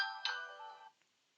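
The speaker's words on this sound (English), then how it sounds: "mirror my phone screen so you can see the actual call coming in" A phone ringtone for an incoming call plays a short melodic chime up close, then stops abruptly and leaves silence.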